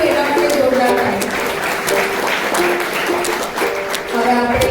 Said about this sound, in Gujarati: અને જેને પણ ટ્રાય કર્યું એના માટે જોરદાર તાળી.